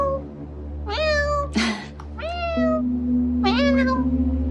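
A woman imitates a cat with her voice, giving three drawn-out, whiny meows separated by short pauses and a brief breathy noise, close and loud over a low steady hum.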